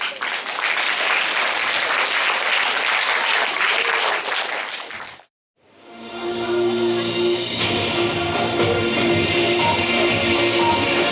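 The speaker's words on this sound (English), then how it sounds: "Let's welcome our participants with a big round of applause." Loud, dense applause from a school assembly audience welcoming participants at a Tri Colour Day event, sustained for about five seconds before a brief silence, then giving way to music with a steady tonal bed.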